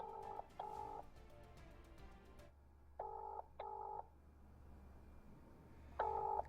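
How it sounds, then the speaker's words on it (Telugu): A phone line rings while a call is placed, giving faint, repeating double bursts of ringing tone with short pauses between them and no talk. "రింగ్ అవుతుంది కాకాని బాబు నెంబర్."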